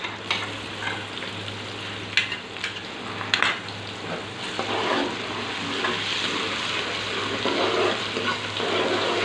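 In a pan, ginger garlic paste fries with onions, giving a steady broadband sizzle with a few stirring scrapes, moderately quiet and close, with a low hum underneath.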